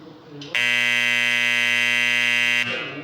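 A buzzer in a timer control circuit on an electrical sequence-control trainer sounds one loud, steady tone for about two seconds, then cuts off, with faint background hum before and after.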